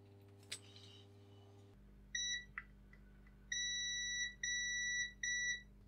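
A multimeter on continuity mode tests the power socket of a faulty mini jukebox, giving a short beep and then several longer steady electronic tones, close and clear, with light handling clicks between.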